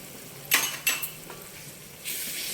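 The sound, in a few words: ginger garlic paste frying in pan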